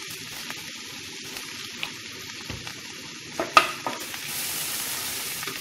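Green chili and capsicum fry in a pan with salt, stirred in scraping strokes over a continuous close sizzle, with a few sharper clinks of the utensil near the end.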